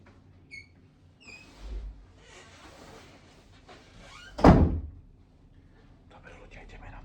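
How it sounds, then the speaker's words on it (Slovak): A door closing in a home with a single muffled thump, preceded by small creaks and rustles, with a person talking quietly around it. "Zavriem dvere."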